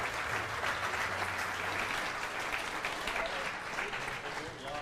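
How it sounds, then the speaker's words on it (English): Sustained applause fills a presentation hall at the unveiling of the new Sauber C32 Formula One car, steady and dense throughout, with faint voices mixed underneath. "applause for the new Sauber C32"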